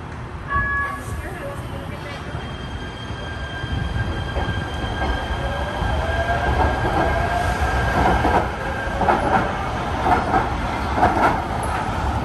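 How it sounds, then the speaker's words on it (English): An LA Metro Green Line light rail train pulls away with a rising electric whine, rumbling wheels and some squeal, growing louder as it moves off, with a voice talking. "I'm gonna watch this train depart"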